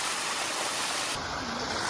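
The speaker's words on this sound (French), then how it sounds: "Petite cascade." A small mountain waterfall, a constant close rushing hiss of falling water filling the whole clip with no other sounds.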